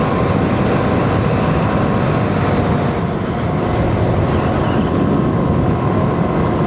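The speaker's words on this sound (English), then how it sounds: "a very noisy motorcycle at 60 miles an hour" A very noisy motorcycle at about 60 miles an hour, a loud, unbroken roar of engine and wind rushing past, steady and close, with no speech.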